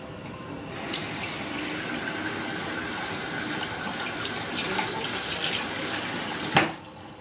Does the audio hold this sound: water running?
yes